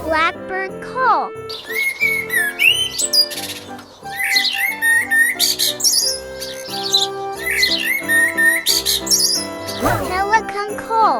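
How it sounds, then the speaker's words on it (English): A blackbird call in a children's bird-call guide: a run of bright, varied whistles, chirps and squawky notes, loud and close, carrying on steadily for about eleven seconds with brief pauses and no talking. "Blackbird call."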